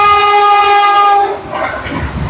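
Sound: train running on rails

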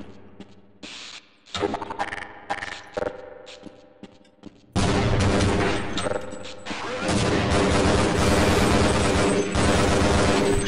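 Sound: gunfire exchange in video game Half-Life Blue Shift

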